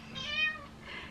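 A house cat lets out two short, close meows in quick succession, soft and clear with nothing else around.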